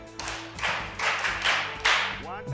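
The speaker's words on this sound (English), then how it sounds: "clap your hands for him" An audience claps hands in four short, evenly spaced bursts of broadband patter, moderately loud, with a voice briefly audible near the end.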